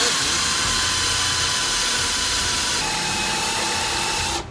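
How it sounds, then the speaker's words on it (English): A power drill bores holes through a steel mounting plate during a rack and pinion install on a twin turbo Camaro, a loud, close, steady grinding whine that holds without a break and then cuts off abruptly at the end. "We just gotta drill these holes out to 3/8."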